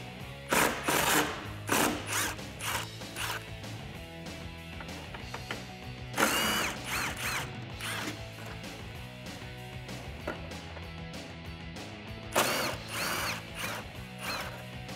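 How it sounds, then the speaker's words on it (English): A ratchet with a 10 mm socket loosens grille bolts on a 2019-2020 RAM 1500, giving close, rhythmic bursts of rapid clicking separated by short pauses. "So grab your 10 millimeter socket and let's get these out."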